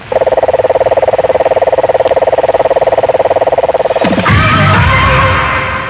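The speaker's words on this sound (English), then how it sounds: "I like the marine toad. That's quite a good one. It's very loud and very distinctive." A marine toad gives a loud, continuous pulsed trill, a rapid even throbbing call running steadily for about four seconds before breaking off into other noise.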